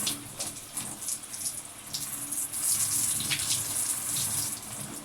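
Tap water runs steadily into a sink or basin while hair is washed and the scalp massaged, a continuous close splashing gush with no talk over it.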